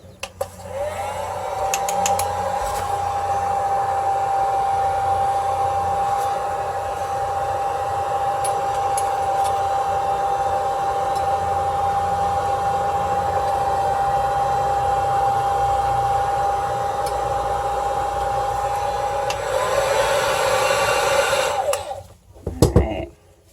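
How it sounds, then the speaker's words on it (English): A heat shrink gun blows a steady, even whir for about twenty seconds while warming a knife for cutting soap, with a faint tone running under it and a brief louder burst before it clicks off. "I'm going to try heating my knife with my shrink gun to see if that makes it easier to cut it straight."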